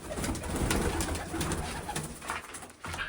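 Pigeons coo nearby, low and soft, the repeated throaty calls running over a constant rustling background.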